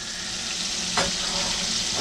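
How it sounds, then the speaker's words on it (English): Chicken breast strips frying in hot oil, a dense steady sizzle with a brief stir or shift partway through. "Got them frying up."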